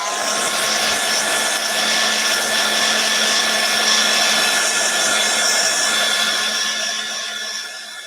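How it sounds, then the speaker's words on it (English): A hair dryer blast-dries patina paint, a steady loud close whirring rush with a tonal whine that holds throughout and eases slightly at the end. "Let's just give these a wee little blast dry."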